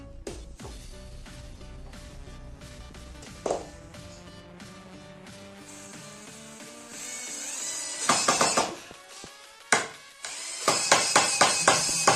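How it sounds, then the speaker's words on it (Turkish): Screws driven into a homemade tripod by hand, heard as scattered clicks, taps and knocks, with bursts of rapid clinking near the end of a fairly quiet stretch. "Arkadaşlar bunu buraya vidalayacağız"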